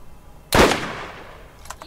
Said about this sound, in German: Der war gut, dieser Schuss.